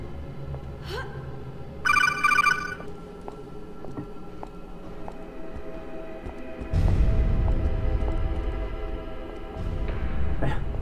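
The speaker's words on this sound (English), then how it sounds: "Would you believe that I've got the same ringtone on my phone?" Phone ringtone playing during a co-op session of the game Dead Island, a short burst of repeating electronic tones early on, then other game sounds and louder noise, with no talking.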